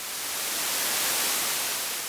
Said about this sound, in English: I'll put white noise through there, flat response, cut the bass